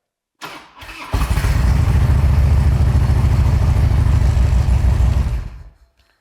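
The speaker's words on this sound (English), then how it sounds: "Now you can hit the start button and see if it's going to run." A Harley-Davidson motorcycle, ridden as a hog, cranks briefly and fires up, then settles into a loud, steady, rumbling idle close to the mic before shutting off.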